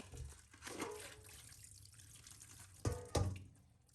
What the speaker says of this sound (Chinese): 处理好的黄鱼放入清水中，再清洗一遍，彻底洗净